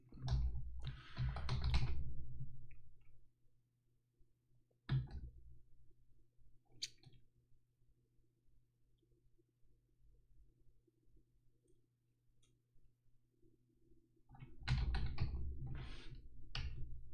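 Computer keyboard typing during coding practice, with quick clattering bursts of keystrokes at the start and again near the end, separated by a long quiet stretch with only a few isolated clicks.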